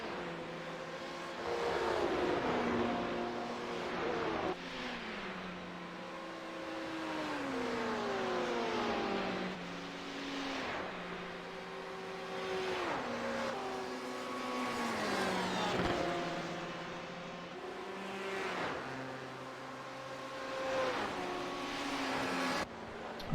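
GT amateur and GT Pro race cars in a sim racing endurance event at Watkins Glen, engines droning and shifting pitch through repeated upshifts and downshifts, several cars close together, loud and continuous with no talk.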